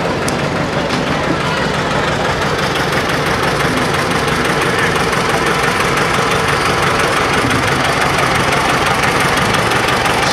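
A 1956 John Deere 80 tractor in a town parade runs with a continuous loud, knocking engine drone, with a faint voice mixed in.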